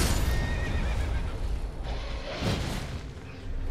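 A horse whinnies in the video game Elden Ring as it dies, a loud neigh over busy game sounds with clip-clop hooves and a low rumbling boom, all in the foreground.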